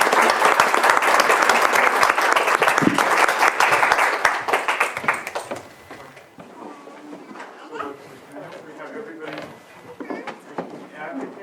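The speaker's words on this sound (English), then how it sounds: "she deserves a huge round of applause for keeping us alive" A round of applause at a county Board of Supervisors meeting, loud and dense clapping from the chamber for about five seconds, then tapering off into scattered claps and murmuring voices.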